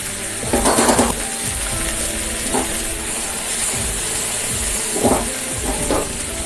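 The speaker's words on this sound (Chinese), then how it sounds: "现在螃蟹已经保持中火煎制了能有1分多钟了，哎，咱们把螃蟹翻过来，哎，再煎制另一面" Crab pan-frying in a wok over medium heat, a steady close sizzle with several brief louder bursts of spitting oil, likely as the pan is shaken or the crab shifts.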